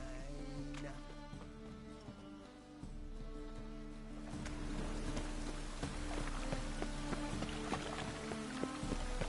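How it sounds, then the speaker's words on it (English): Steady rain falls in The Witcher 3: Wild Hunt, a constant patter with scattered drips, alongside game music and ambience that grow fuller partway through. "Rain, I like rain."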